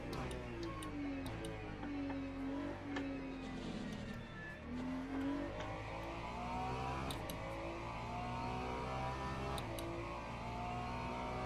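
Race car engines drone in Gran Turismo 7 as an LMP prototype comes up on a forest circuit. Engine pitch rises and falls with gear changes, and faint ticking runs steadily beneath.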